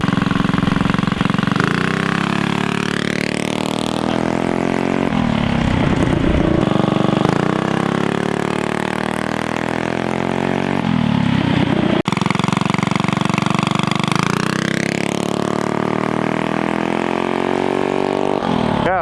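A car fitted with a Juggernaut torque converter revs hard and launches, its engine rising and falling in long, loud sweeps that repeat, close and steady, with no talking.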